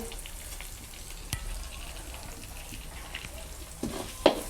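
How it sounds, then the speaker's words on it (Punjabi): Cumin seeds dropped into hot oil sizzle steadily and close up while cooking a karela (bitter gourd) dish, with a couple of sharper pops and stirring clinks toward the end. "ਤੇਲ ਚ ਜੀਰਾ ਪਾ ਕੇ"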